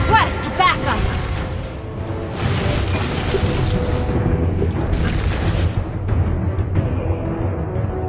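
Booming explosions and crashing blasts from a turret being destroyed in a mobile battle arena game, loud and dense, with a burst near the start and repeated heavy impacts, under game announcer voice lines.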